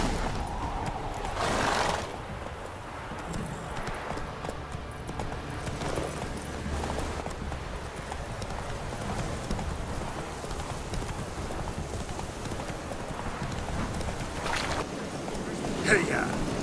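Roach, a horse in The Witcher 3, gallops with rhythmic hoofbeats under a steady outdoor ambience, with voices speaking over the running.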